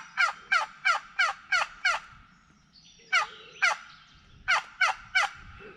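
A wild turkey gobbles outdoors during a North Carolina hunt, a loud run of six rapid rattling gobbles followed after a pause by further bursts of gobbling, clear and fairly near with no talk.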